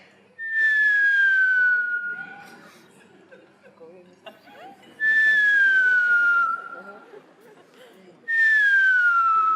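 A sleeping man gives off a repeated whistling noise, three long descending whistles spaced a few seconds apart, close and clear, with soft murmuring and a little laughter between them.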